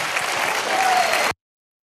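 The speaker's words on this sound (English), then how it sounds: "You got folks in there clapping their hands." Dense applause from a crowded audience, heard through a played recording, steady and full for about a second and a half before cutting off abruptly into silence.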